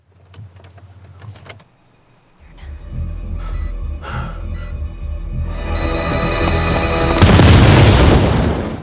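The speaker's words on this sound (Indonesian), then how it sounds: "Melihat mobilnya meledak, Oliver pun ketakutan bukan main." An electric car blows up in an action film: a sharp boom followed by a building, roaring blast and rumble that swells loud to the end, preceded by quieter mechanical noises.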